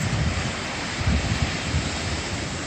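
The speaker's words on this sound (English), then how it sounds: "the waves in the background" Ocean waves roll onto a beachfront at a resort in Tulum, a soft continuous wash with gentle swells, mixed with wind noise on the microphone.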